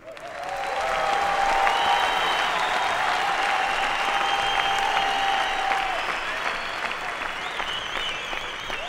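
A large crowd, on the order of ten thousand people, claps in sustained, dense applause that holds steady and loud throughout, easing slightly toward the end.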